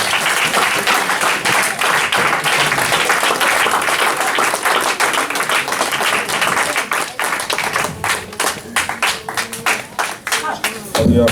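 A congregation applauds during a synagogue Shabbat morning service, dense steady clapping that fills the room and thins into scattered separate claps near the end, with voices mixed in.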